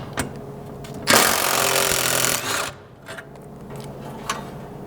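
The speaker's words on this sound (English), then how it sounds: "grab a 13mm socket and remove the 5 bolts holding this center steel structure in place" A 13mm socket on a power tool removes the bolts holding the steel center structure of a Ford Bronco rear bumper: one loud, close, whirring burst of about a second and a half, then a few quieter clicks and knocks.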